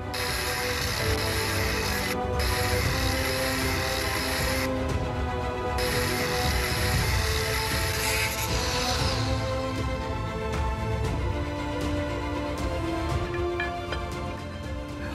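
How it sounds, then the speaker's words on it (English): A metal lathe turns down 25mm steel round stock for a propeller hub shaft, giving a steady, loud mechanical whir and rattle with a bright cutting hiss that drops away partway through. "turn this down once I put it onto"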